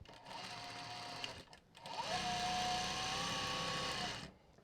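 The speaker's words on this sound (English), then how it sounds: "we're just going to sew this into a box" Sewing machine stitching a zip pocket into a box shape, its motor whirring steadily and close by in two runs with a short pause between them.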